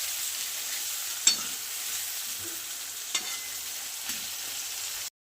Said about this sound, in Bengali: এবার আমি পেঁয়াজ কুচি আর টমেটো কুচি দেব। একসাথে তেলে দেবো, দিয়ে নাড়াচাড়া করে নেবো ভালো করে।